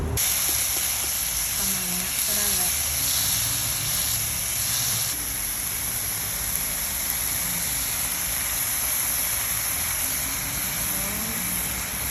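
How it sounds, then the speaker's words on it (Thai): Pork stir-frying in a pan, a steady loud hiss and sizzle running throughout with faint scraping and clinks, and someone talking over it. "ก็ผัดหมูไปเรื่อยๆนะคะ ผัดจนให้มันแบบ เริ่มสุกแล้ว"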